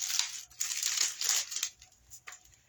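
Plastic stickers made to look like metal lock-and-key charms are peeled off and pressed onto an object, giving close crinkling and rustling in bursts, then a softer final rustle.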